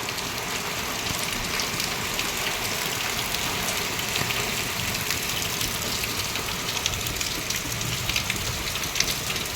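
Heavy rain pours steadily in Odisha after three days of downpour, a dense continuous hiss of drops drumming on surfaces with no voices, loud and even throughout.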